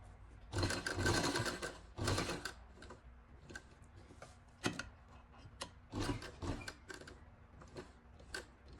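Sewing machine stitching lace onto the corner of a dupatta, running in several short whirring bursts separated by pauses, with light clicks and fabric handling between runs.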